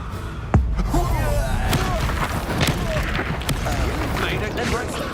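The Confringo spell explodes in the Hogwarts Legacy video game, a sharp blast followed by rumbling combat noise, with voices in the mix.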